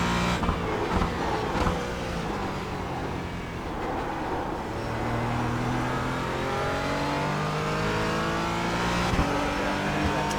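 A Porsche Cayman GT4 race car engine in iRacing at Sebring, loud and continuous, rising in pitch and shifting up through the gears as it accelerates, with a steady roar and no talk.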